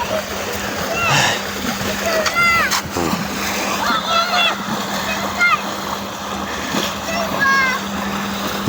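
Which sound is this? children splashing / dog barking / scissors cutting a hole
children splashing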